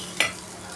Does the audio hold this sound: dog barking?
no